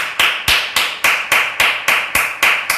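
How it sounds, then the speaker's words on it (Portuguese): Church congregation at a Bible study clapping in a steady, loud unison rhythm, about ten sharp, evenly spaced claps close to the microphone with no talking. "Uma forte salva de palmas a Jesus."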